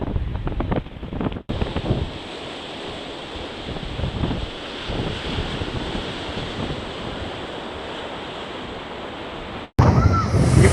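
Rough, stormy sea at Poompuhar beach near Tharangambadi, with waves surging and strong wind buffeting the microphone in a steady roar, broken by brief cuts and a louder gust-filled burst at the end.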